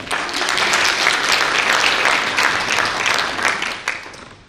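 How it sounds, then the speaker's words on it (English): Conference audience applauds during a panel discussion, a full, loud wash of many hands clapping that holds steady for several seconds before fading out near the end. "I think that does deserve a round of applause"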